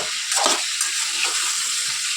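Eggplant pieces fry in oil in a pan while being gently mixed; a dense, continuous hiss and crackle dominates, close up, with soft scraping of the utensil early on.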